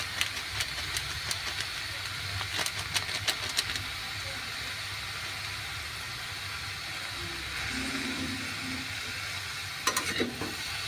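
Bottle gourd sizzles as it is stir-fried with salt, turmeric and ground cumin for a Bengali moong dal dish, a moderate sizzle broken by sharp spatula clicks and scrapes in bursts, close by.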